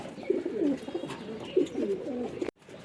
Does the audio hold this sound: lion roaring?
no